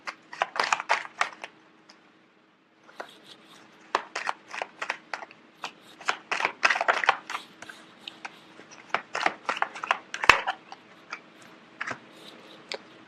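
Tarot cards being shuffled in a series of rapid, crisp riffling and slapping bursts up close, with a short pause near the start and one sharp snap partway through.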